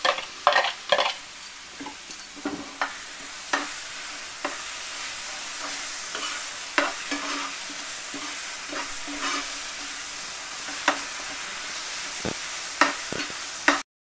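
Eggplant paste is stirred and cooked with spices for Rajasthani baingan bharta, a low sizzle broken by repeated scraping strokes and clinks of a spoon against the pan, irregular and close.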